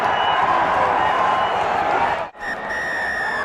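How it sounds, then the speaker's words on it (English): Excited stadium crowd at a Kenyan rugby final between Kabras Sugar and Menengai Oilers, loud steady cheering and clapping that dips sharply for a moment before resuming. "The crowd is excited."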